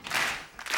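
A studio audience on a television talk show clapping along to a beat, several loud massed claps in quick rhythmic succession within a brief moment.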